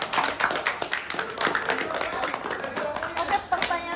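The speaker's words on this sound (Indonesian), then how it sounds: "Boleh beri tepuk tangan." Small school audience at a class talk show clapping, a scattered run of claps at moderate distance with students' voices murmuring underneath.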